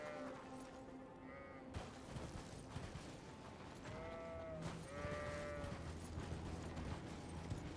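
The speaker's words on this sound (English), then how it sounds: "These are normal sheep." Sheep bleating in the Elden Ring video game, several wavering bleats at moderate distance over a busy game soundscape with mechanical creaks and ambience.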